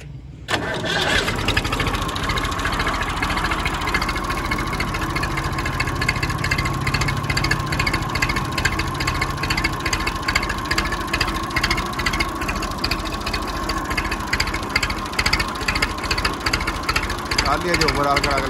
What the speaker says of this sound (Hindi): इंजन का साउंड भी तुम दिखा दे